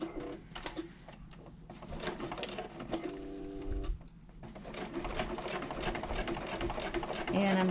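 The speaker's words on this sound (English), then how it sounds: "I'm going to end my stitches back stitching at the top here." Sewing machine back stitching the top of a zip pocket on a convertible bag, its motor whirring in short bursts with brief stops and restarts, close and fairly loud, under occasional talk.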